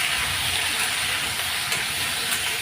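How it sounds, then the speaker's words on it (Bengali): Potatoes, onion and green chillies fry together in oil after black cumin seeds are added, giving a loud, steady hissing sizzle that runs unbroken throughout. "কালো জিরে দেওয়ার পরে আমি আলু পেঁয়াজ কাঁচা লঙ্কা সব একসাথেই দিয়ে দিয়েছি ভেজে নেবো"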